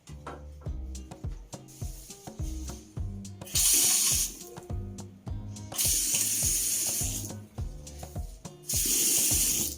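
Water runs from a bathroom sink faucet during a cartridge repair on a leaking ECA basin mixer, the bright hissing flow turning on in three loud bursts between clanks and handling knocks of the fixture.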